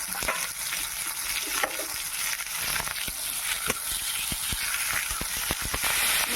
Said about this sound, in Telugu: ఆ ఎర్రగడ్డలు ఇందులోకి వేసేసి బాగా వేయించుకోవాలన్నమాట